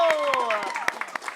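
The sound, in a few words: audience applause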